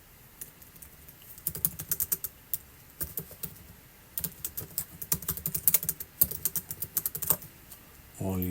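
Typing on a computer keyboard, uneven runs of crisp close keystrokes with short pauses between bursts, with a brief different sound at the very end.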